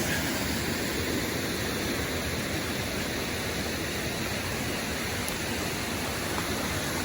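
Water of a rocky creek rushing steadily in a dense, broad, unbroken wash, close and fairly loud, with no voices.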